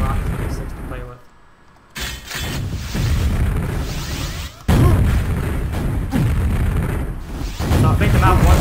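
Rocket explosions and deep booms during a QuakeWorld deathmatch on the DM4 map, loud and repeated over dense game noise, with a brief quieter gap partway through.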